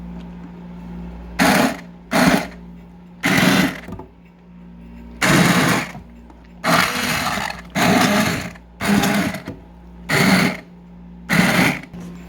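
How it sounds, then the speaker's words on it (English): Immersion blender whirring in short bursts through cooked produce being prepared for canning salsa, about ten loud close pulses separated by brief pauses. "So I'm just going to immersion blend a little bit."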